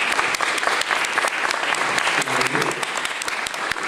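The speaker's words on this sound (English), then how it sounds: "yes, go ahead, applause." Steady applause from an audience at a candidates forum, a dense wash of clapping with a few louder individual claps and a brief murmur of voices midway.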